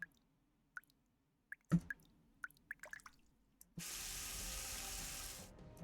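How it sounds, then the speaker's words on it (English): Water drips from a bunker ceiling in the game NIKKE, first as a few sparse, isolated drops, then as a steady, loud running splash that fills the second half. "Water's coming from the ceiling!"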